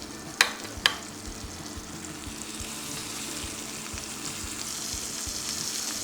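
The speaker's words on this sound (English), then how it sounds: "Now that they're in the pan, we're gonna let them cook for about 2 minutes" Pork chops frying in a hot skillet on the stove, two sharp clacks at the start followed by a steady, close, hissing sizzle that builds slightly and continues alone without speech.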